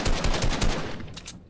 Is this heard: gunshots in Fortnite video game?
yes